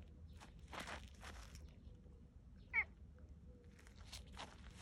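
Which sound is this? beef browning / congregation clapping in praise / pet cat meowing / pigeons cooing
pet cat meowing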